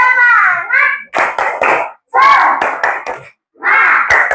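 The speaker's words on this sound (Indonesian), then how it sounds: "Ayo Azel, tepuk semangat dulu kita." Schoolchildren in a fourth-grade classroom chant loudly and clap in rhythm during an icebreaker, with bursts of voices broken by short pauses and quick clap accents.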